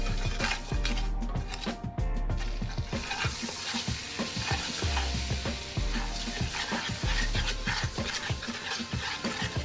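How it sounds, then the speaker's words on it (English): Butter and cumin seeds sizzle and crackle in a hot pan while being stirred, with a steady frying hiss and scraping utensil clatter throughout, close and fairly loud. "Just keep on mixing it so that the zira does not burn."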